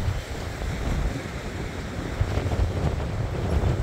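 Wind-driven waves on the lake at Brunnen wash and slap continuously under a heavy rumble of gusting wind on the microphone, a dense, steady roar with no voices.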